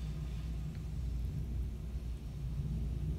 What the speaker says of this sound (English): It's just constant rumbles of thunder.